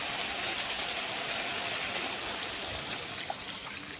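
Water pours into a pan of cooking curry masala with oil separated, making a steady, close rushing trickle that holds evenly throughout.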